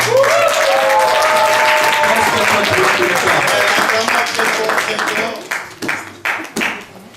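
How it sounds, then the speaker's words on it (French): An audience at a church conference applauds and cheers for the Lord, with loud sustained clapping and shouting voices that break up into scattered claps and fade toward the end. "Est-ce que vous pouvez acclamer pour le Seigneur?"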